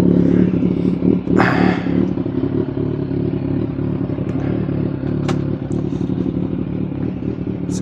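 Kawasaki Z1 motorcycle upshifting without the clutch via a slipper clutch, a steady close engine drone with mechanical clatter and brief ticks and scrapes throughout as the bike pulls.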